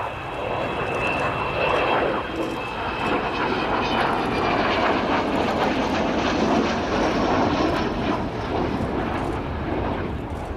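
An Avro Vulcan B2 XH558 delta-wing jet bomber flying a display at the RIAT 2015 airshow gives a loud, continuous roar that stays heavy and steady throughout, with no talk.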